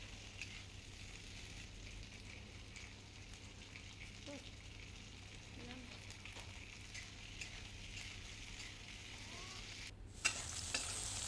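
Green peas and potatoes frying in oil with salt for aloo matar sabji, a steady soft sizzle and crackle that runs evenly throughout, with a brief clatter near the end.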